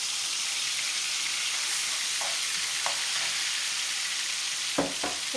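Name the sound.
ginger, garlic and green chili sautéing in oil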